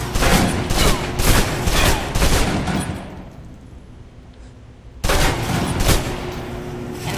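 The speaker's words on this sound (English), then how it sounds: "If you're trapped in close quarters with multiple opponents, the SMGs can help clear the room quickly" Submachine gun fire in the Alpha Protocol action game, loud rapid bursts of automatic shots, a pause of quieter room tone, then another close burst of firing.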